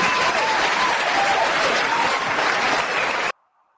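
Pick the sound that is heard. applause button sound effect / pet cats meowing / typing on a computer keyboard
applause button sound effect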